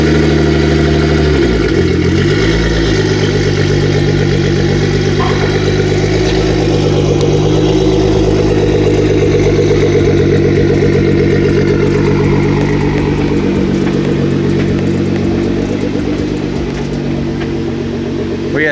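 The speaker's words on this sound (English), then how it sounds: "You guys can hear the trans all messed up. It's poor transmission, guys." A Nissan GT-R with a faulty transmission idles loud and close, its steady mechanical drone holding throughout with slight roughness and no pauses.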